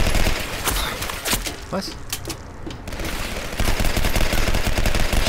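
Rapid bursts of gunfire from a first-person shooter, the video game Legendary, crackling in dense volleys for several seconds while a voice cuts in briefly.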